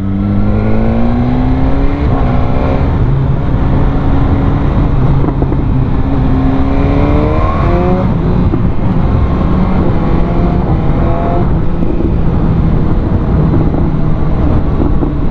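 A BMW S1000R motorcycle engine roars through an aftermarket exhaust, loud and close, with the revs rising and falling in repeated sweeps over a constant heavy drone, and no talking.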